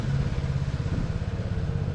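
A Vespa scooter engine hums steadily at close range on Madeira Island, a constant low drone with rattling vibration throughout.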